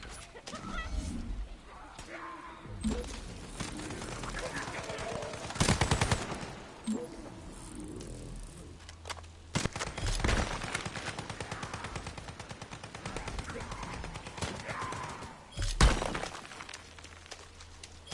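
A summoned turret fires its guns in the video game The First Descendant, loud crackling bursts of rapid gunfire with sharp impacts and shattering hits, layered over game effects and music.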